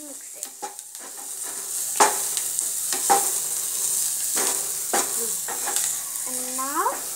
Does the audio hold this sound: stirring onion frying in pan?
yes